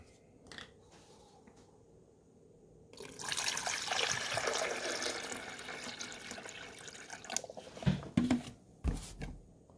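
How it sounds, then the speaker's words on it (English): Vinegar pours into the reservoir of a Mr. Coffee 12 Cup Programmable coffee maker, a soft liquid stream running for several seconds, then a few drips and handling knocks at the end. "So we're going to pour the vinegar back there."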